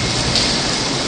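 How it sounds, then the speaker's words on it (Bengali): Heavy rain pouring at night outside a hotel in Shantiniketan during a thunderstorm, a dense, steady, close wash of noise filling the short stretch with no talk. "মুষলধারে বৃষ্টি হচ্ছে।"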